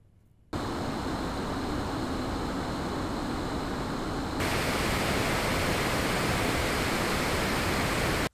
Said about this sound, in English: you'll definitely notice the fan noise as soon as the mini starts doing tasks